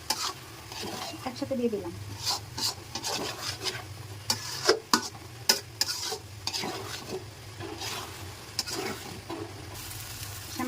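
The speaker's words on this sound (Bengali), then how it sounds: "এখন কিশমিশ আর হলো কাঠবাদামগুলো দিয়ে দিলাম" Raisins and almonds frying with vermicelli in a pan, a steady scraping stir with soft sizzling and clattering strokes throughout, under brief talk.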